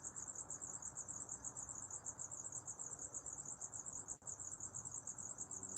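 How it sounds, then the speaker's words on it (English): Loud, steady insect chorus of crickets chirping in a continuous pulsing trill, with no voices over it. "Man, those crickets are loud."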